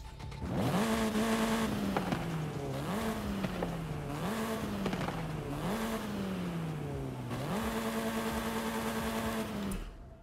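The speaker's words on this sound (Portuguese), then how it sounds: "Vamos ouvir o ronco do carro." Volkswagen Golf GTI with a TSI engine roars in a video game, revving up and down repeatedly in rising sweeps with brief drops between them, loud and close throughout with no talking.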